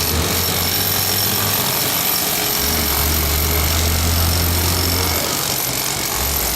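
Loud, continuous pounding of a heavy percussive drill driving a rod into the ground during grout wall installation, with a steady engine drone underneath and no pauses.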